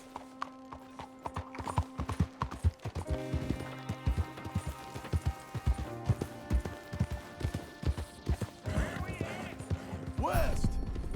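Horse hoofbeats in the Red Dead Redemption 2 video game: a steady, rhythmic clip-clop of galloping hooves, close and clear, with a brief whinny near the end.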